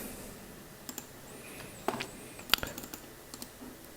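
Light typing on a computer keyboard: a few scattered, soft key clicks spread unevenly over four seconds, quiet and close against a faint background hum.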